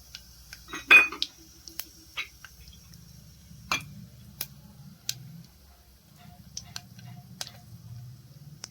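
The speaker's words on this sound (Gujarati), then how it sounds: "હવે તેમાં રાઈ જીરુંનો વઘાર કરીશું" Mustard seeds and cumin tempering in hot oil for a cracked-wheat khichdi, heard as sparse, scattered pops and ticks over a low background hum, with no speech.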